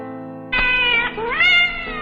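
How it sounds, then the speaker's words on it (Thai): A cat meows twice in quick succession, close and clear, the second call rising in pitch, over a faint steady background tone. "เจ้าเหมียวนี่เอง"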